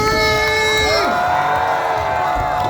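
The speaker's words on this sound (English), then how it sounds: "Let's make some noise for Zach and Coco." A crowd at a freestyle motocross exhibition in Toronto cheers and screams loudly and continuously, high voices shrieking and swooping together in a dense, close roar.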